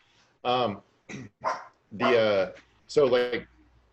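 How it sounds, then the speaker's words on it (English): A dog barks several times in short bursts, loud and close, with a brief pause between barks. "Now my dog's barking."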